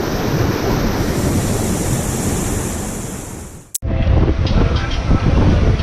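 Strong wind buffets the microphone over steady crashing surf at Boston Beach, Jamaica, a loud broadband roar with a brief dropout near the end before the gusts return.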